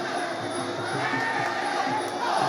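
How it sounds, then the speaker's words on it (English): Dense arena crowd noise at a Muay Thai fight night at RWS, a steady loud roar of voices and cheering with no gaps. "Can hardly hear myself think with the Jumacon crowd behind us."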